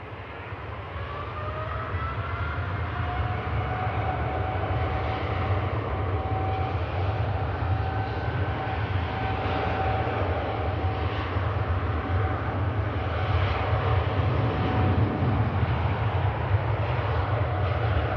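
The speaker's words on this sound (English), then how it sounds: "Gulf Dreamliner in a retro scheme departing back to back to" A Gulf Air Boeing 787 Dreamliner in a retro paint scheme departs Manchester Airport, its steady jet engine roar sustained and fairly loud at a distance, with a low rumble and faint whining tones.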